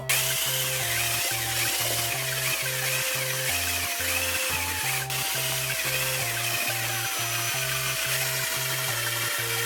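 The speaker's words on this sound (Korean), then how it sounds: "숟가락으로 어느 정도 퍼졌고 다시 드릴로 좀 갈아줄게요" A power drill whirs steadily as it grinds hollowed-out watermelon flesh, its motor pitch rising and dropping in repeated short bursts, loud and close.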